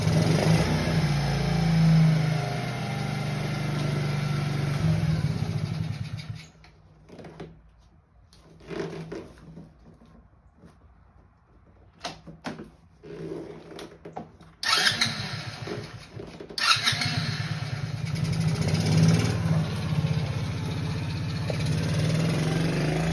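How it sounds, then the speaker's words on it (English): A 50cc Kazuma Meerkat Chinese quad's small engine runs loud and close, its steady buzz dropping away for a few seconds mid-run with scattered bursts, then revving back up strongly. "Time to take it for a test drive."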